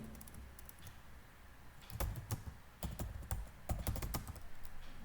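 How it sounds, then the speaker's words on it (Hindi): Keys clatter on a computer keyboard in quiet, close, irregular bursts of clicks that grow busier partway through, with no voices. "सपोज करो मैं टाइप करता हूँ"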